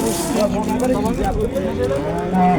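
Cattle lowing at a livestock market, the cows and in-calf animals on sale, with repeated moos close by under steady talk from people nearby.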